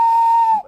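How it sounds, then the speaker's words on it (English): A railway guard gives one sharp, loud blast on a whistle, a steady shrill tone lasting about half a second before it cuts off abruptly. "The guard blew his whistle"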